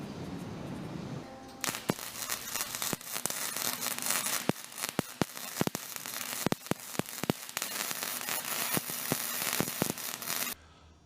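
Steel cross pieces are welded into a frame being built for high bay LED lighting, giving a steady crackling arc-welding hiss with sharp pops and spits for about nine seconds, close and fairly loud, with no talk.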